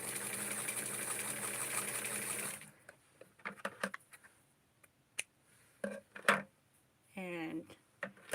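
A sewing machine stitches tulle into a Barbie dress with a loud, steady mechanical whir that stops abruptly, followed by quiet handling clicks and rustles.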